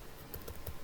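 A few soft keystrokes on a computer keyboard, three light clicks spaced evenly under a quiet room background.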